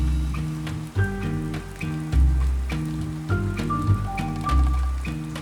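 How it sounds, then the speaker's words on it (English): Rain falls steadily in a continuous soft hiss during a cozy summer writing retreat, with gentle melodic music playing over it throughout. "it's raining!"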